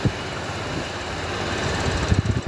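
A new Honda SP 160 ABS motorcycle idles nearby with a low, even engine rumble and a few soft throbbing pulses, and no one speaks.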